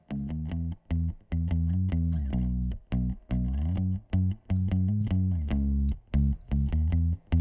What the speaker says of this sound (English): And then we're going to bring in our DI bass.